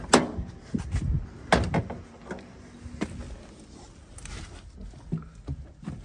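A car door clunks shut close by as someone gets into a car with a flat battery, followed by a few muffled knocks and rustles from the interior.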